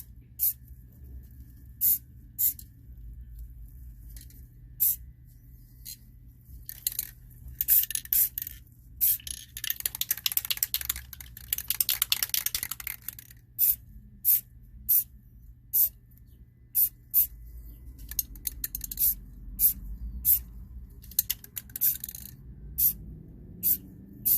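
Aerosol spray paint goes onto a Yamaha YFZ exhaust in short repeated hissing bursts, with one longer sustained spray in the middle and quiet gaps between.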